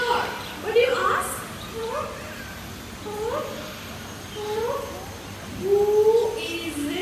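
A parrot imitates a puppy with a series of short, squeaky yips and whines, spaced out over several seconds against a quiet room background.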